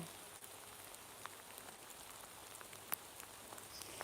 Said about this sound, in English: That rain's starting to get heavy.